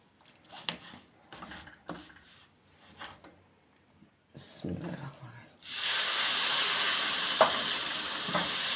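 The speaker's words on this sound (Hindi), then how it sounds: "जल्दी से इसको हिलाना ताकि इसकी गुठलियाँ ना बन जाए।" Semolina halwa is stirred in a pan as water is poured onto the hot mixture, giving scraping stirs and then a sudden, sustained loud sizzle and hiss, with someone talking over the first part.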